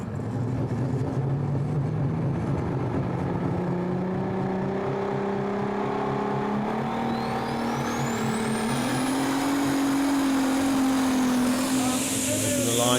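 An International-based pulling tractor roars at full load through a tractor pull run at the European championship in Brande, Denmark. Its loud, sustained drone climbs steadily in pitch and then shifts tone, while a commentator's voice runs faintly underneath.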